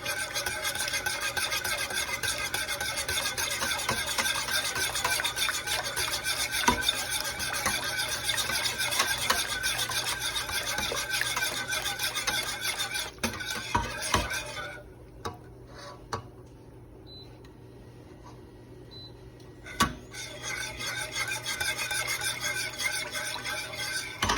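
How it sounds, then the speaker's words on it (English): A whisk stirring mac and cheese sauce in a pot, a continuous rapid scraping rasp with a brief pause partway before the stirring resumes. "With your whisk, you're just going to stir."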